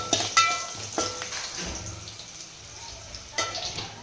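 Turmeric powder being stirred into a cooking pot for goat trotter soup, with scattered clinks and scrapes of a spoon over a soft, steady frying sizzle.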